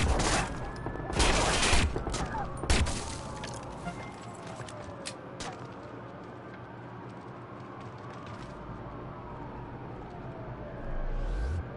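Heavy gunfire from a firefight in the video game Watch Dogs, with dense bursts and loud shots early on, then scattered cracks and a steady rumble of combat ambience.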